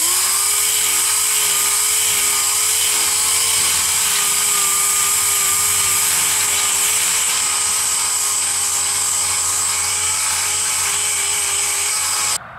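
A DA sander fitted with a 320-grit interface pad works over the grille shell of a 1978–1979 Ford F-150, giving a loud, steady high-pitched whine that holds without a break until it cuts off at the end.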